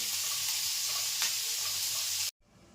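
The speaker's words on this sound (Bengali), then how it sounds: "1 চামচি রসুন কুচি দেব, 1 চামচি লঙ্কা কুচি দেব। এটা ভালো করে ভেজে নেব" Chopped garlic and green chili fry in hot oil in a Bengali kitchen, a steady close sizzle and hiss that cuts off abruptly near the end.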